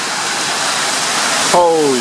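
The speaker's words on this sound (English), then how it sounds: "Here comes the rain." Heavy rain pours down during a hailstorm as a loud, dense, continuous hiss, and near the end a person briefly speaks over it.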